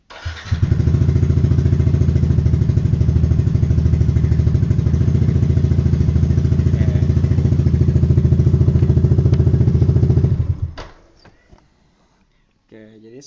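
A motorcycle engine idles loudly and evenly for about ten seconds, then shuts off and fades, leaving a few faint clicks; the setup involves testing a Bluetooth Vproject Open Looper device.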